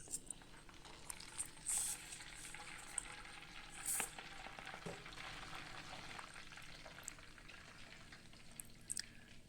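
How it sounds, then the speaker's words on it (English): Shallots frying in oil give a faint, continuous sizzle and bubbling, with a few sharper crackles and light clinks of a utensil scattered through, and nobody speaking. "remember not to fry until golden brown because the shallots will continue to brown from residual heat"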